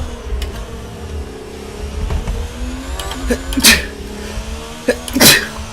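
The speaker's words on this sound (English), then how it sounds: "I'm sneezing as I come out of the pit lane." A person sneezes sharply twice over the steady engine drone of a Formula racing car leaving the pit lane in a racing video game set in Brazil.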